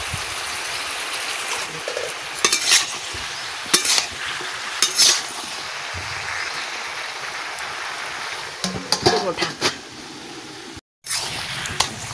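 Bottle gourd and fish head curry with salt, turmeric and green chilli being stirred in a pan: scraping strokes come in bursts over a steady wet sizzle, with a brief silent gap near the end.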